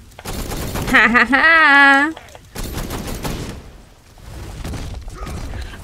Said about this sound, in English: Yes, I want to fire dual handguns.